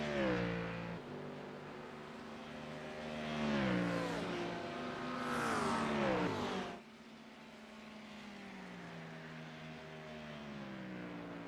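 GT3 race car engines rev and shift in a racing game at Fuji, a layered whine that rises and falls as cars accelerate and pass, loud at first and then settling into a quieter steady drone.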